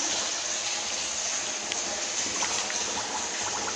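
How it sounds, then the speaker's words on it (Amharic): Water poured into a cooking pot holding washed chicken, a continuous close splashing gush that stays steady from start to finish with no speech. "ውሃ አደርግበታለሁ"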